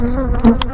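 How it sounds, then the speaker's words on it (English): A dense, steady buzz of a honey bee swarm in a box close by, humming continuously with slight swells in pitch and loudness. "Box full of bees there."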